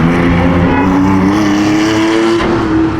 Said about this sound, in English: my brother's always willing to go throw down, so he tried to get the car sideways